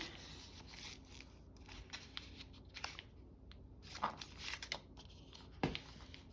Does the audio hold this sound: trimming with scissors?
yes